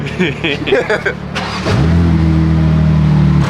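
A 900HP built-motor BMW M4 with a big single turbo starts up and settles into a loud, sustained rev held close by, after brief talking at the start.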